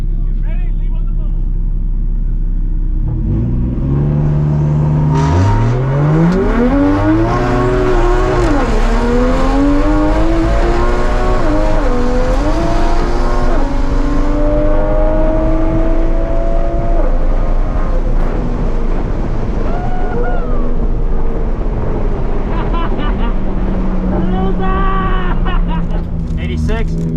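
A Time Attack Toyota A90 Supra launching at a Gridlife Heartland drag race, engine revving hard through rising gear sweeps with shifts, loud and close from inside, with voices heard throughout.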